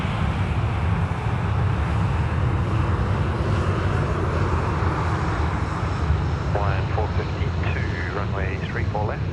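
Airliner jet engines on takeoff at night at Sydney Airport, a loud, broad, steady roar filling the whole clip, with a faint chirping sound rising over it near the end.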